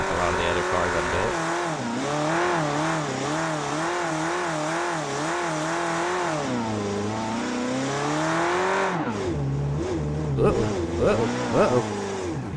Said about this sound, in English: She'll cut a donut unlike a lot of the other cars I've built.